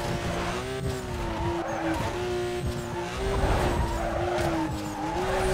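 A racing car in Need for Speed Most Wanted, the video game, skids with a loud, sustained tire squeal over a steady engine roar, wavering in pitch for several seconds.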